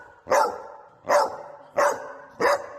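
A dog barks four times in an even rhythm, each bark sharp and close, with short quiet gaps between them.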